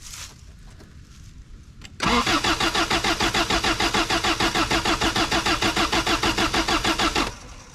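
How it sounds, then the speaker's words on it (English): An old junk truck's engine cranks hard on an Avapow A68 jump box after a quiet start, turning over in a fast, steady, loud rhythm for about five seconds without firing, then stopping. "This truck takes forever to get fuel up to it, like forever."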